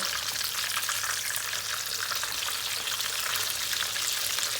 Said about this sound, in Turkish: Ortalama bir dakikada bu tarafını kızartacağız.